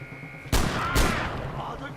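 Two loud, broadband gunshot blasts from a weapon in the video game Far Cry 4, about half a second apart, each followed by a rumbling decay that lingers under steady background game noise.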